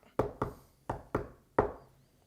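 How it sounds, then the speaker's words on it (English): Five hollow knocks land on a door in two quick pairs and then a single final rap, close and distinct with short ringing decay between them and no talk. "Knock, knock. Knock, knock."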